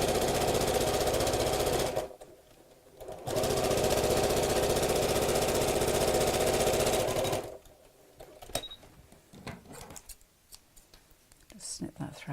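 A sewing machine stitches a bag lining for a scalloped flap clutch in two loud, steady bursts, briefly pausing between them, then falls quiet as scattered handling clicks and snips of thread follow.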